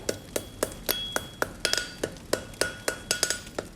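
An iron tool is struck in a quick, regular series of bright metallic clinks. Each ring is short and near.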